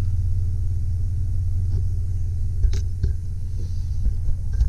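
A 2002 Dodge Ram 1500 high-top conversion van with low mileage runs at a steady, close, low engine rumble with a few faint knocks and rattles over it.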